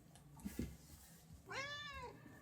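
A cat meows once, a clear rising-and-falling call near the mic, after a couple of soft knocks and handling sounds indoors.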